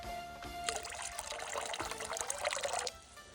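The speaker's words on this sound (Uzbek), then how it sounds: "Ohagimizga kuparos dorimizni mana eritmasini qo'shamiz." Copper sulfate solution is poured into a lime mixture, a close, steady splashing trickle that lasts a little over two seconds and then stops.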